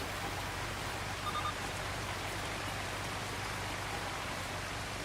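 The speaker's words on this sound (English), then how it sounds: "so we got another hour and a half of rain." Continuous rainfall in Farming Simulator 25 on a farm, a constant full hiss of drops on surfaces, unchanging and uninterrupted, with no voices.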